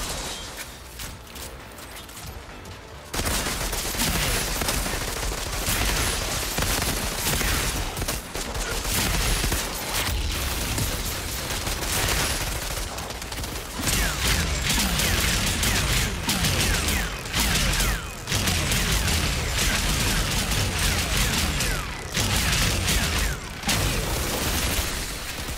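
Heavy gunfire and mechanical clatter in the Outriders game carry on almost continuously after a quieter opening, loud, dense blasts with metallic rattling layered through the whole stretch.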